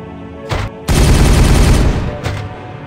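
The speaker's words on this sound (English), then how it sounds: "Weapon ready! Firing on target!" Weapon fire from the Warhammer 40K Regicide video game comes as a loud, dense burst of rapid shots lasting about a second, with shorter bursts before and after. No voice is heard over it.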